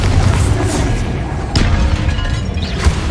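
Confringo explosion spell going off in the Hogwarts Legacy video game, a loud, dense boom with sharp bursts around one and a half and near three seconds over continuous battle noise.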